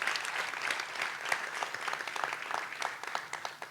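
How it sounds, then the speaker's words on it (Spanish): A youth church congregation gives a strong round of applause during a sermon. Sharp, dense claps come from many hands at a moderate distance and taper off toward the end. "Dale un fuerte aplauso a Dios"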